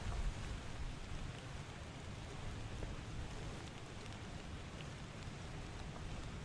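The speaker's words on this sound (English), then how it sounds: "we can fall asleep to the sweet sounds of rain and wind" Steady rain pours down in a continuous broadband wash in the video game Return of the Obra Dinn, with a low rumbling wind undertone, holding an even level throughout without voices.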